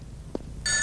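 A telephone bell starts ringing abruptly near the end, a bright, steady electronic trill breaking in after a quiet stretch with a single soft knock.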